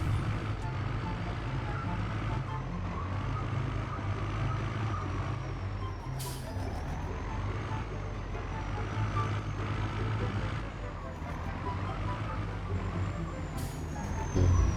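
Six-wheel Fuso truck with a bulldog-style cab in Farming Simulator 19, hauling soil, its engine droning steadily throughout, with sharp air-brake hisses near six and fourteen seconds and faint speech over it.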